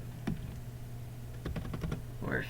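Brief, soft keystrokes on a computer keyboard tap out login details in a quiet room, a single press followed by a quick cluster of clicks.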